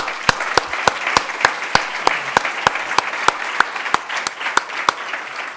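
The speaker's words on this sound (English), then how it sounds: "So join me in a round of applause to everybody for this." A conference audience at an Interreg MPA-Engage project meeting in Barcelona gives a round of applause, with a broad bed of clapping punctuated by sharp, regularly spaced loud claps close by.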